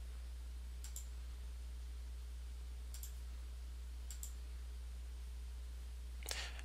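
A computer mouse clicking while stepping through a Wonderware Historian 2014 R2 IDAS installer, four faint, separate sharp clicks spaced about a second or more apart over a steady low hum, no talk.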